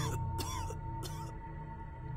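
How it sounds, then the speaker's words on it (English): A person coughs in short harsh bursts, two or three separated coughs close to the listener, with a faint steady hum beneath and no speech around them. "How long have you had that cough?"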